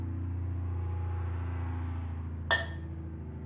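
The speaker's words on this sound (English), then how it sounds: "It's them using their engine braking," A semi truck uses its engine brake on a steep rural hill during harvest time, producing a steady low mechanical drone that holds throughout, broken by one brief sharp clink partway through.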